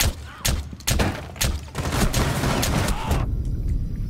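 A shotgun is fired repeatedly in a first-person shooter video game, with loud booming blasts in quick, uneven succession and other gunfire cracking around them, close and dense, ending in a sudden drop to near quiet.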